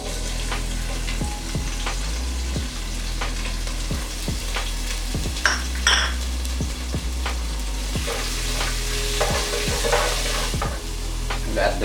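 Curry leaves, pandan leaves, ginger and garlic sizzling in hot coconut oil, a loud continuous crackle and hiss with periodic stirring scrapes and a low steady hum underneath.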